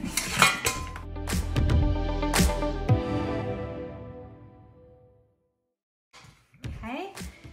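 A hot pot holding steamed cauliflower is tipped and emptied, giving sharp metallic clanks and scrapes of cookware up close, then a long ringing fade and a short quiet gap before more clatter.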